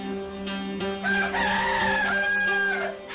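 A Kadaknath black chicken rooster crows once, loud and close, a drawn-out harmonic crow that rises and holds for a couple of seconds before trailing off.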